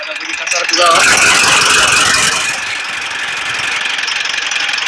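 Close and loud, a Mitsubishi Pajero 4D56 diesel, freshly overhauled, idles with a persistent knock. The engine clatters harshly and evenly throughout, easing slightly after a louder opening stretch.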